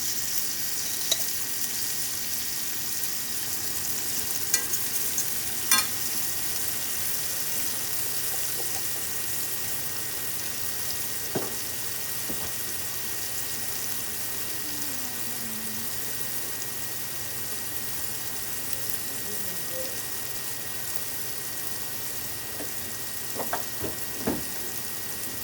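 Garlic frying in a pan gives a steady, soft sizzle that runs throughout, broken by a few faint utensil clicks and light stirring sounds, with no one talking.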